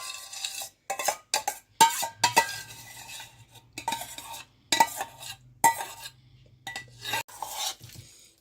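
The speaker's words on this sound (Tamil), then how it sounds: "இப்போ இந்த ரைஸை வடிவாக இந்த ஜோக்கட்டில் கட்டிகள் இல்லாதபடி முழுதாக அப்படியே இந்த கரண்டின்ற பின்பக்கத்தால்" The back of a metal spoon scraping and pressing cooked rice into curd in a bowl for curd rice, in short uneven bursts of scraping and clinking separated by brief pauses.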